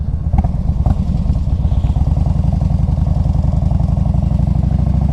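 A 2000 Harley-Davidson Road King Classic motorcycle engine runs at a steady idle, its loud, close, lumpy V-twin throb pulsing evenly, with a couple of brief mechanical clacks near the start.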